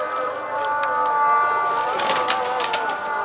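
Pigeons coo steadily close by, soft rolling calls layered over a constant background hum, with a few light scuffs and flutters.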